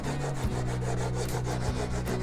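A chisel in a honing guide scrapes back and forth across a sharpening plate in steady rhythmic strokes, a close, gritty rubbing with short pauses at each change of direction.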